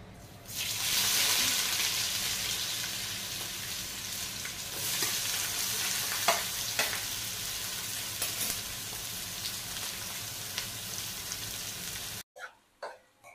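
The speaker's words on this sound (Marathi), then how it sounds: "त्यानंतर आपली मिरची आणि कांदा आपण टाकून घ्यायचे" Chili and onion frying in hot oil in a pan for chicken biryani, a loud continuous sizzle with stirring scrapes throughout, ending abruptly in a few quiet clinks.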